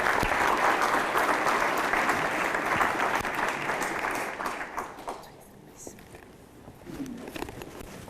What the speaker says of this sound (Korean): 여러분 손익태 지사님 큰 박수로 보내겠습니다.